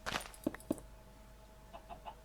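Minecraft chickens clucking in short, separate bursts: a few quick clucks near the start, then fainter ones toward the end, over quiet background.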